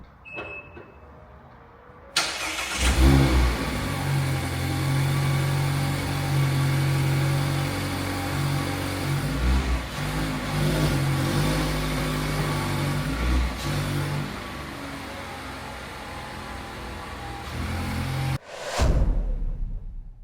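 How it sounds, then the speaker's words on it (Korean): A Mazda MX-5 roadster's engine starts with a burst, settles into a steady idle and rises through a few moderate revs, heard close from inside the car; the note is not especially loud or booming. "방금 시동 키는 소리도 들어보셨죠?"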